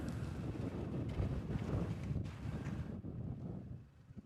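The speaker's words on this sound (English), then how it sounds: "it is windy, and I bought the new soundboard to try to get rid of some of the wind" Wind buffeting a microphone outdoors on a windy day at Honolulu airport, a steady loud low rumble with gusty swells that eases off toward the end, with no talk.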